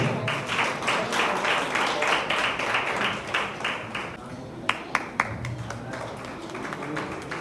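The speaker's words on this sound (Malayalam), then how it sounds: "നല്ല കൈയടി എടുക്കാം." Audience at a church anniversary celebration applauding during a gift presentation: dense, steady clapping for about four seconds that thins into a few scattered claps.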